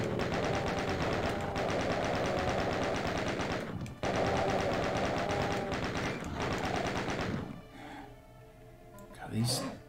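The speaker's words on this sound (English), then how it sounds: "I think I'm going to use the chain gun right now." Rapid chain gun fire rattles continuously in the Doom video game, loud and dense for about seven seconds with a brief break, then gives way to scattered game effects and a short burst near the end.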